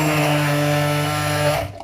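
A blender purees a spiced oyster mushroom meze mixture seasoned with cumin, black pepper and red pepper flakes. Its motor whines steadily and loudly, then cuts off abruptly near the end.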